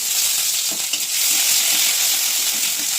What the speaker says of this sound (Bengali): তেজপাতাটা একটু গরম হয়ে গেলে আমি এই তেজপাতার মধ্যে এই বেটে রাখা লবঙ্গ, এলাচ, দারুচিনি, গোলমরিচ